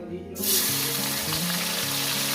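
Tomato frying in hot oil spiced with garam masala for fish-head dal, a loud steady sizzle that bursts in after a brief quiet start and holds close and even throughout.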